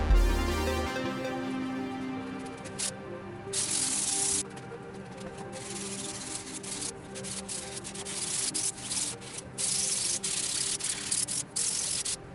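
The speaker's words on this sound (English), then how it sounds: "then we're on to hand sanding for it" Someone hand-sands a 3D printed sword blade, producing repeated rasping strokes of uneven length, some quick and some drawn out, close by with no one talking.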